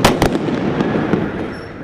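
Sharp firecracker bangs pop in quick succession during an Indigenous protest march in Quito, loud and close, followed by a rumbling echo that fades away.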